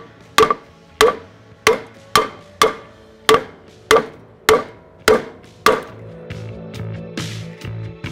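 A Masterbuilt Gravity 560 firebox part is tapped into a snug fit with a piece of wood, giving about nine sharp, evenly spaced knocks followed by softer shuffling handling sounds.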